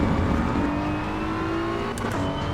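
BMW M4 engine in Assetto Corsa Evo on a night Nurburgring Touristenfahrten lap, a loud sustained drone with pitch shifting as it downshifts to second, close and continuous.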